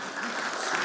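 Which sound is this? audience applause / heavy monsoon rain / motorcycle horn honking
audience applause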